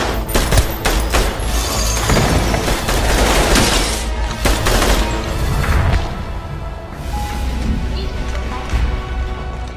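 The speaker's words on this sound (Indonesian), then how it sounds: "membunuh semua penjaga dengan senapan serbu" Assault rifle gunfire fills a film action scene as killers storm a gang hideout and shoot the guards, loud sustained bursts and rapid shots with crashes layered throughout.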